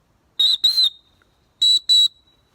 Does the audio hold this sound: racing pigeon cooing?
no